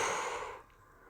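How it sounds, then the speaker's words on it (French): A strong, forceful exhale through the mouth during a breathing exercise, a single close breathy rush lasting about half a second before fading to quiet. "et soufflez fortement pour vous dynamiser."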